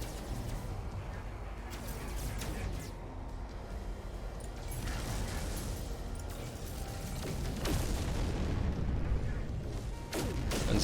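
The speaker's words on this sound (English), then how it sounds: "Wait, stop firing at me." Weapons fire in the space exploration game No Man's Sky, a dense run of booms and pops over a continuous rumbling game soundscape, with a voice talking over it.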